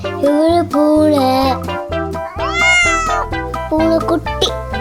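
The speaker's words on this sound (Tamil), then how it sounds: "இவரு பூனை" Cat meowing in a series of tonal, drawn-out meows over a musical background.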